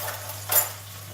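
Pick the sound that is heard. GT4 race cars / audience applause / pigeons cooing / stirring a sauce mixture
stirring a sauce mixture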